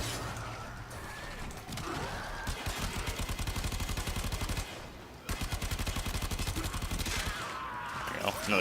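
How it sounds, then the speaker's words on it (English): Rapid bursts of video game gunfire from the shooter Fortuna, loud and close, with repeated automatic volleys after about two seconds and again after five, over a dense background of battle noise. "What is shooting at me?"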